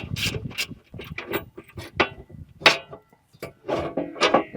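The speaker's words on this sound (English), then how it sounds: "I'll take this front bolt back out" A front bolt is worked back out of a protection kit on a TYM T574 tractor, with close metallic ratcheting, clicks and clunks of tools and parts in irregular bursts.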